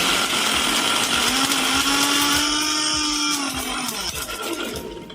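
An electric blender whirs loudly as it blends an almond milkshake, a Nagercoil-style Sharjah shake. It is a close, continuous motor drone whose pitch climbs and then steadies, with a faint rattle of almond pieces, before the motor slows near the end.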